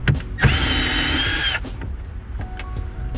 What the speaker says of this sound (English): I'm going to use a little Makita here to pull everything out.